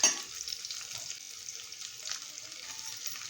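Sliced onion frying in a pan for a pea pulao, with cashews and cinnamon already in; a soft, faint sizzle with light stirring, starting with a brief louder burst.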